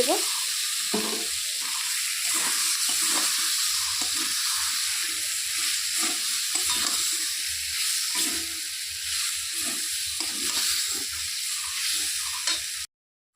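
Tomatoes and spices frying in a pan for a potato curry (aloo dum), a steady close sizzle running the whole time with intermittent stirring scrapes and clatter.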